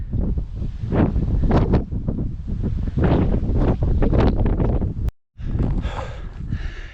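Strong wind blasting across the exposed hilltop of Bamford Edge, loud pulsing microphone buffeting in heavy rushes, cut by a sudden brief dropout before the roaring gusts resume, no talking.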